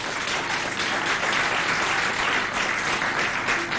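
A school audience claps steadily for the Lycée Humanité team at a quiz contest in Sarh, a continuous even round of applause from start to finish.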